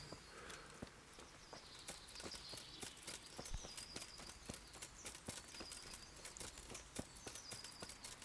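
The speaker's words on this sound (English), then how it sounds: "you are supposed to ostensibly try to keep up with Hans when he's on a horse." Horse hooves clip-clop in a steady walking rhythm in a video game, moderately close, with light high-pitched ambient tones in the background and no speech.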